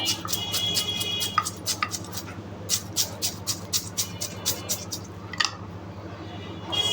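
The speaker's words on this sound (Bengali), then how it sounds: "পেঁয়াজ রসুন কাটতে বসলাম" A knife cutting onions and garlic, a steady series of crisp, close chopping taps in quick rhythm with a couple of short pauses, over a low background hum.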